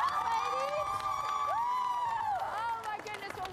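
High school cheer squad cheering and whooping, a loud crowd of high voices with rising shouts sustained through the moment, close and energetic with cheering throughout.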